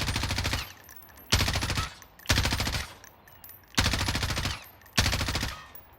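Automatic M4 rifle with a full-length ranger foregrip fires in Warzone, a video game, in five loud sustained bursts of rapid shots separated by short pauses.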